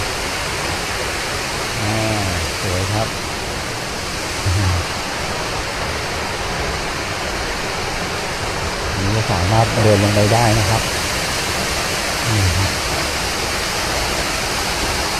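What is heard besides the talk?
waterfall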